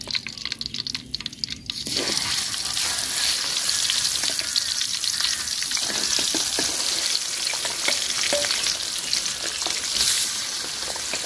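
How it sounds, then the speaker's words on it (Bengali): Pabda fish frying in hot oil: after a quiet moment, a loud, steady sizzle breaks out at close range and holds throughout, with a few faint clinks and no voices. "তো বাকিগুলাও ভাজা নিব, এই যে আরো আছে, এগুলাও ভাজা নিই।"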